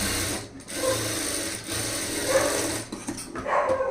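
A sewing machine stitches blouse lining for a high-neck blouse with a steady low mechanical whir, broken by brief pauses and small handling noises.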